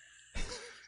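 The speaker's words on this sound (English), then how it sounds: "Hence the choking and coughing." A single short throat clearing or cough from a nearby person, an abrupt harsh burst lasting about half a second after a quiet start.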